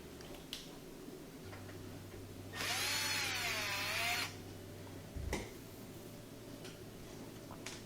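A power driver spins a Phillips head screw into the metal door plates of a Frigidaire oven in one short, high whirring burst, nearby, between quiet clicks and handling noises.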